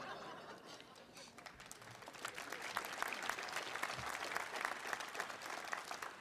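Applause from the crowd at a Pitt women's basketball introductory press conference: steady, fairly distant clapping that swells and holds for several seconds, with faint chatter and a little laughter mixed in.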